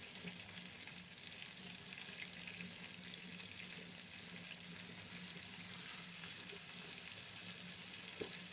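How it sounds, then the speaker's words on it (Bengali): Chicken pieces fry in hot oil in a pan, giving a steady, loud, dense sizzle that runs unbroken throughout with no voices. "তেল দিয়ে দিচ্ছি, এখন মাংসগুলো দিয়ে দিলাম।"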